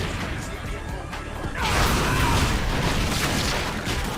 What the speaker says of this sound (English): Oh, that appears to be an entire box of fireworks.